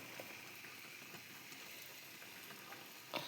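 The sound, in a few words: cabbage cooking with fish head in a pan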